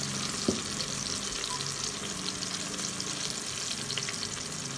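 Food is sautéed and stirred in a hot pan while an Indian dish is prepared, with a strong, steady sizzle and an occasional light clink of the utensil. No one talks.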